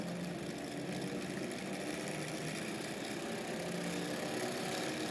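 Homemade BLDC motor running on a 230 V AC/DC supply, a continuous dense buzzing hum that holds steady throughout, close and loud.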